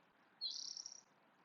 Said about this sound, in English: the twittering birds